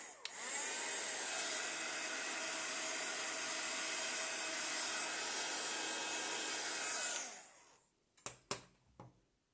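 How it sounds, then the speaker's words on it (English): Heat tool blowing hot air to dry paint on a craft project, a steady loud whirring hiss for about seven seconds that then cuts off, followed by a few light clicks and taps. "Now I need to be careful with the heat tool so I don't melt."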